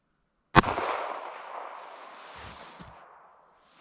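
A single sharp gunshot from a 9mm pocket pistol loaded with Fiocchi defense ammunition, loud and close, followed by a long fading echo and a couple of faint handling knocks.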